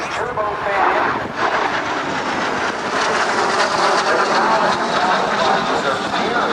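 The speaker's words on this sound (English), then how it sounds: "These turbofan engines," An L-39 Albatross trainer jet's turbofan engines roar steadily and broadly at an airshow, a loud continuous rushing sound at a distance, with an announcer talking over it.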